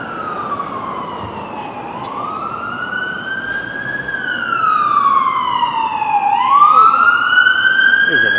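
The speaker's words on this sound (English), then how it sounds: "Is it an ambulance, fire truck? It's an ambulance." An ambulance siren wails nearby on a downtown Vancouver street, its pitch sweeping slowly up and down, growing louder over steady road traffic.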